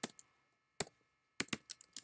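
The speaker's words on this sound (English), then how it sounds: "So right here I would type June 6th" A computer keyboard is tapped in short bursts while a date is typed, crisp close keystrokes separated by pauses, with a single stroke, another, then a quick cluster of clicks.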